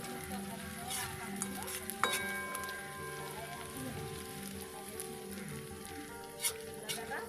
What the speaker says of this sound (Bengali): পেঁয়াজগুলো দিয়ে আমি 30 সেকেন্ড নাড়াচাড়া করে নেব।